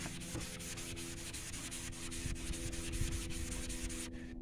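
A faded truck headlight is rubbed and polished with Meguiar's color restorer, producing a steady, soft, raspy friction sound with rhythmic back-and-forth strokes. It is quiet and close, with no talking.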